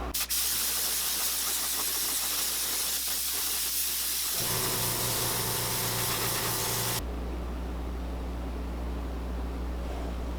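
An airbrush or spray gun hisses black paint onto a fishing lure in sustained bursts, cutting off abruptly midway, leaving a quieter steady hiss with a low hum beneath.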